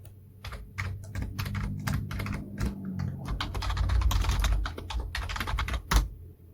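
Fast, close typing on a computer keyboard, with clustered clicks in uneven bursts and a short pause near the end. No one talks.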